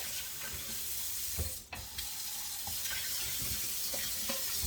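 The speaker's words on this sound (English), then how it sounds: "I'm going to fill my sink with cold water." Steady rush of cold tap water pouring into a sink, continuous and fairly close, with a brief clunk partway through.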